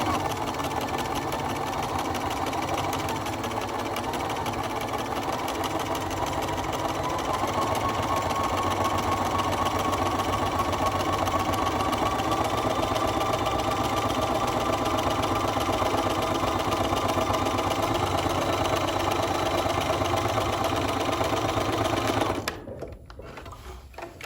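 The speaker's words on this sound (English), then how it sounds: "I'm gonna start sewing on my paper" Sewing machine stitching fabric onto foundation paper for a basket diamond quilt block, running in one steady, continuous whirring drone for about 22 seconds before stopping abruptly, with no talking.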